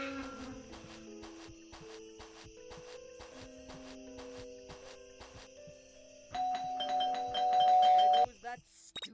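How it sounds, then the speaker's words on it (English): A doorbell rings repeatedly in a cartoon vampire-teacher scene, bright chiming tones in a steady run that swell louder near the end, with a voice speaking under the chimes. "There goes that stupid bell again."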